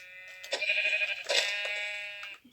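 Sheep in the video game Minecraft bleat in two wavering, nasal calls, close and clear with no talk over them.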